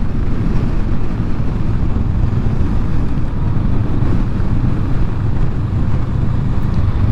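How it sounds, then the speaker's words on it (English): Strong crosswind buffets a Honda Rebel 500 motorcycle on the freeway, a loud, continuous low roar of wind across the microphone that holds steady throughout. "very fucking windy right now."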